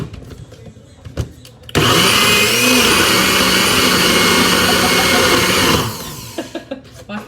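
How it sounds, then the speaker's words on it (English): A NutriBullet blender whirs loudly and steadily for about four seconds after a quieter stretch of faint room noise and small knocks, then cuts off abruptly. "All that noise you be making, I know you're not scared of no NutriBullet."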